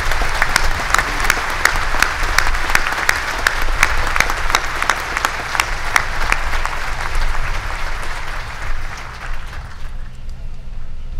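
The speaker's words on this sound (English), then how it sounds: "So please join me in a round of applause" Audience applause at a graduation ceremony, a steady wash of many hands clapping for about ten seconds before tapering off.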